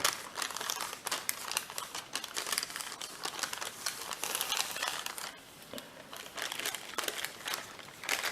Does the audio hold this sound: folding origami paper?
yes